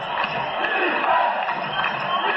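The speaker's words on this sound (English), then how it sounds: "they have fake crowd noise here at Harmon Geist Stadium" Fake crowd noise piped over the speakers at Harmon Geist Stadium during a high school football game, a continuous cheering and roaring wash of voices, steady and fairly loud throughout.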